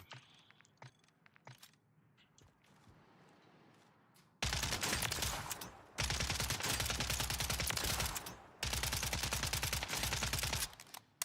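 Video game gunfire at training dummies: a few scattered shots, then three long loud bursts of automatic fire separated by short pauses, no talk.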